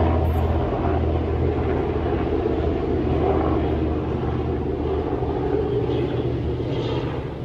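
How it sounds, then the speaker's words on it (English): A helicopter passing overhead, a steady broad rotor and engine rumble that holds at an even level throughout with no speech, slowly fading slightly at the end. "That was like a whole helicopter just going across."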